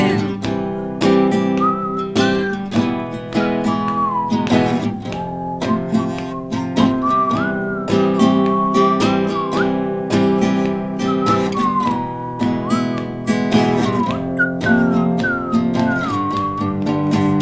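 An audience whistles a melody together, a bright, sliding tune carried over steady backing music for the full stretch.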